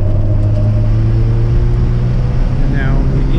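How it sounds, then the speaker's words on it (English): A Mazda RX7 accelerates hard through the gears, its engine a loud, constant droning rumble heard from inside the car, with a brief rising pitch near the end. "I'm gonna accelerate a little bit harder to get up to that 70 mile an hour braking point."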